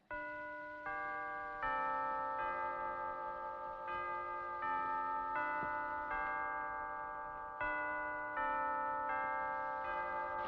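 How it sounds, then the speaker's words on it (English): A household clock chimes a melodic sequence of bell tones, repeated several times with sustained ringing harmonics, close and clear with no voices over it. "It's only the clock"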